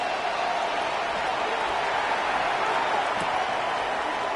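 A football stadium crowd at a Seahawks game gives off a steady, loud, unbroken roar that holds level throughout.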